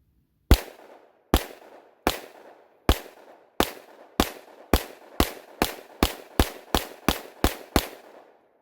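A Glock 20 Gen5 pistol fires 180 grain hard cast bullets in a string of fourteen loud, sharp reports, spaced evenly at first and then quickening, each crack trailing into a short echoing decay.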